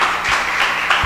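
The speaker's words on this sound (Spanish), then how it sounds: "Démosle el aplauso al Espíritu Santo" Congregation applause in a church service, a steady wash of clapping with a few louder bursts, moderately loud with no clear talk over it.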